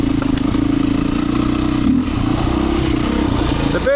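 A Beta 500 dirt bike engine runs hard on a Michigan trail, a loud, steady, throbbing drone near the rider with a brief dip midway, plus faint rattles and clatter from the ride.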